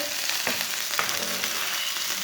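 Garlic and onion frying in a pan until lightly browned, a steady close sizzle and crackle with faint stirring scrapes, no talk.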